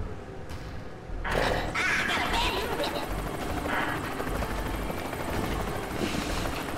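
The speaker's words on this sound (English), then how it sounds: "I don't like the helicopter." A helicopter in the video game Worms W.M.D starts up after a brief quiet moment and keeps a steady, loud rotor drone through the rest of the moment.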